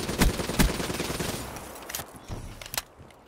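Bursts of automatic gunfire ring out in Black Ops 3 while a player fires at a sentry during a multiplayer match. Two sharp, loud shot volleys lead off, then a scatter of fainter shots and clatter follows.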